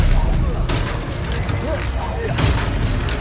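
A disarming spell is cast in a Hogwarts Legacy duel, a booming blast amid ongoing combat effects and low rumble, loud and close, with a voice shouting during the fight.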